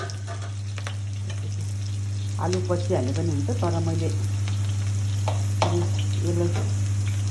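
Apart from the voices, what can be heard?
frying aloe vera with potato in a pan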